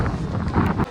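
Wind blows steadily across open village farmland, a broad rushing roar with gusty swells that carry on for the whole moment.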